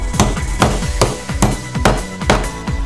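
Hammer driving a Carbon Off Road hammerlock pin home through a block of old timber, about seven heavy, evenly spaced thuds, close and loud, with no talk.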